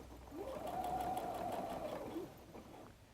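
A sewing machine stitches the last few inches of a messenger bag in one short, quiet run of rapid whirring that lasts about two seconds and then tapers off.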